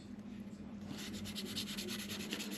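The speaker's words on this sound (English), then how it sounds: "So 1200 grit sandpaper." Fine 1200-grit sandpaper rubbed lightly over a part of a Monte Carlo build, giving a steady soft hiss of sanding strokes close by that grows slightly fuller after the first second and continues alone without talk.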